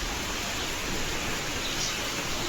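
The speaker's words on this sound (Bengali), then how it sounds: "এইবারে খুব জোর বৃষ্টি হচ্ছে দেখো, প্রচুর জোরে বৃষ্টি হচ্ছে এবার।" Heavy rain falls in a storm as a dense, even hiss of steady downpour, loud and continuous with no voices.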